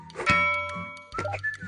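Basketball dropping through the net in a children's counting video game, two brief cartoonish thunks with chiming tones, each followed by a short fading ring, heard alone.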